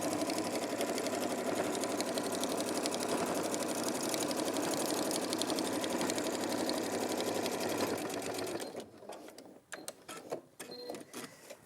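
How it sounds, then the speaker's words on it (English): A sewing machine stitches in a fast, steady mechanical whir for about nine seconds, then stops, leaving a few scattered clicks and handling noises. "just sew from here to there."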